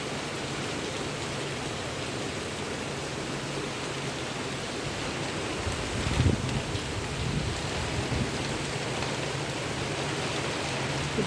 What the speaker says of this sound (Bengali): খুব জোর বৃষ্টি হলো।